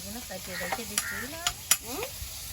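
A large magur catfish, about two kilograms, fries in a pan with a continuous soft sizzle broken by a few sharp pops and clicks, and some faint voice-like sounds are mixed in.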